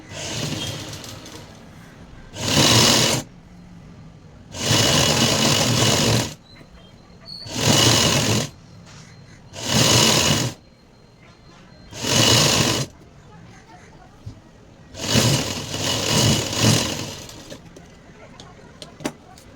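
A sewing machine stitches elastic onto pencil pants in seven distinct runs of steady whirring, each lasting a second or two, separated by quiet pauses, close and loud, with speech in between.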